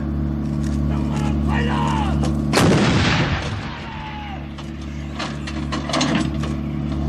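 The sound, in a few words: self-propelled artillery gun firing three-round burst, automatic loading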